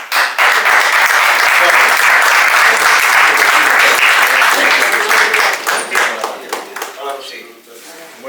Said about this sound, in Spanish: darle un aplauso a un compañero que tenemos en Euskadi